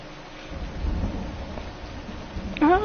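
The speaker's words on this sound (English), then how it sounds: "Oh, they added thunder and lightning into this." Thunder rumbles low and continuous with steady rain in a PS4 video game storm, a moderate rolling roar that swells in the middle and ends with a brief sharper sound.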